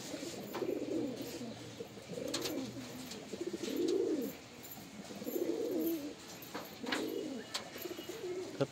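Pigeons coo softly in repeated low rolling phrases, about six in a row at a fairly even pace, faint and close against quiet background noise.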